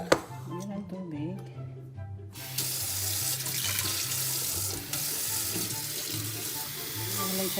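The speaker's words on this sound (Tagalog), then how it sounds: "Yan, lalagyan ng tubig." Tap water runs and pours into a pot while suman pilit, a Filipino sticky rice snack, is being prepared, a loud steady gush starting after a moment of kitchen clatter, with music and voices underneath.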